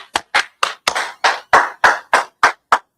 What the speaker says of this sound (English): Hey, clap it up.